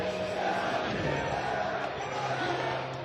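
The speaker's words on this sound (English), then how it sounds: "The West Coast crowd is going nuts." West Coast crowd at an esports fighting-game tournament cheering and chanting, a dense roar of many voices sustained throughout at moderate distance.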